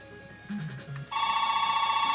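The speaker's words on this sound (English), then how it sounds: "And the phone's ringing." In the Mega Man 9 video game, a telephone rings with a steady, bright electronic trill that kicks in suddenly after a few soft game tones and continues loudly to the end.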